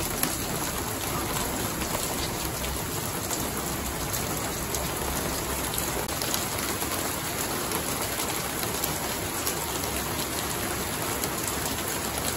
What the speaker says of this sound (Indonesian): Hujan, hujan, hujan, hujan.